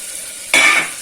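Green chillies hit hot boiling oil with a sudden loud hiss that bursts in partway through and then slowly fades, heard alone without talk.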